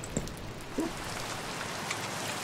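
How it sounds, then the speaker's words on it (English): Steady rain hiss in the Minecraft video game at night, a continuous broadband wash with a couple of faint soft taps on top, even and unbroken throughout. "Also, it's nighttime and raining."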